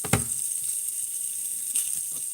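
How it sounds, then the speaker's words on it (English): A grated potato, onion and egg mixture frying on low heat in a pan, giving a continuous soft sizzle and hiss with a couple of faint scraping knocks. "Mix with salt and pepper and fry on low heat."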